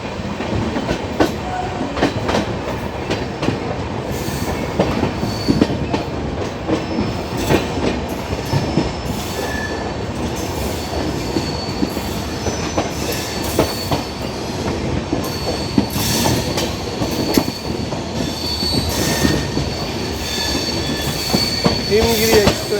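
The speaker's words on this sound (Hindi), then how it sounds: "देखिए सामने से क्रॉस हो रही है जम्मू तवी हावड़ा जंक्शन जाने वाली है।" From aboard a moving express, the Jammu Tawi–Howrah train crosses on the opposite track: a loud, continuous rumble with rhythmic clickety-clack of wheels over rail joints and occasional faint squeals.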